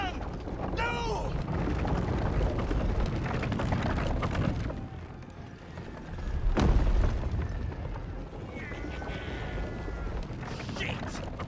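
Cannon fire in the Baldur's Gate 3 video game, a deep booming blast swelling midway over a rumbling battle din, while voices shout and talk around it.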